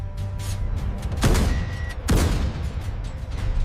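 A Merkava tank's main gun fires at a target, two heavy booming blasts about a second apart, loud and close over a steady low engine rumble.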